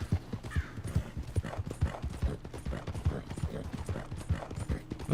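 Horse hooves galloping in the video game Red Dead Redemption 2, a steady, rapid clip-clop rhythm running throughout, close and fairly loud, with a faint whinny.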